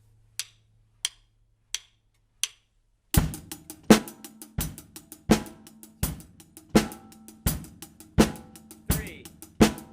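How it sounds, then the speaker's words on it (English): Eight measures of a rock groove for a Canon remix: four sparse count-in clicks, then a steady drum beat with punchy kicks and crisp snare and cymbal hits in an even repeating pattern. "This is 8 measures of your rock groove."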